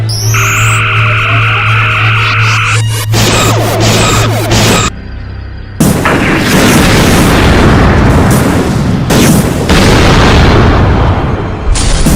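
Weapons fire and heavy explosions from a Star Trek science-fiction film, loud and dense, with electronic tones at first and then a sustained roar of blasts and rumbling booms.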